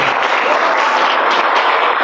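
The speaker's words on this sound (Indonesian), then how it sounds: "Iya, tepuk tangan buat semuanya." A seminar audience breaks into loud, dense applause, many hands clapping steadily and evenly throughout with no pause.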